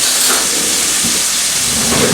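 Chopped onion dropped into grease that is far too hot while beef tips are cooked: a loud, dense, continuous hiss and roar of sizzling, close up and unbroken for the whole stretch.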